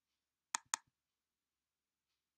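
A computer mouse button clicks twice in quick succession, crisp and close in a quiet room, followed by one more click after a pause.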